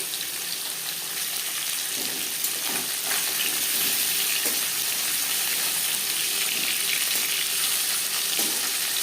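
Hilsa fish pieces and a fish head fry in hot oil, giving a dense, even, close sizzling hiss that holds steady with a few faint knocks and no talking.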